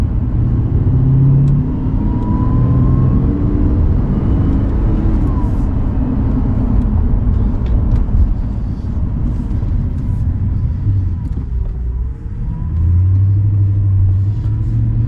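An Audi R8 driven in Andorra, heard from inside as a continuous loud low engine and road rumble that swells and dips slightly, holding steady throughout, with a faint voice at times under the noise.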